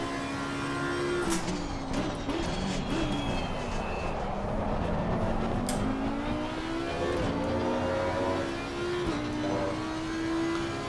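An Audi R8 Evo race car engine roars continuously in Assetto Corsa Competizione at Zolder, its pitch climbing and dropping with each early gear shift through second gear. The sound is loud and steady, with no talking.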